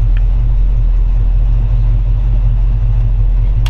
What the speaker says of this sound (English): Starts right up. Again, Chevy 350 V8